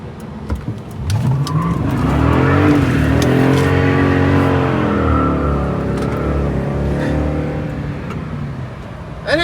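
A 6,000-pound pickup truck accelerating on a snowy winter road, a loud engine roar that rises steadily in pitch through the gears, then eases off as it settles, with no talk over it.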